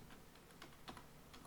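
Soft, quick keystrokes on a computer keyboard, a faint, irregular patter of clicks heard close and alone.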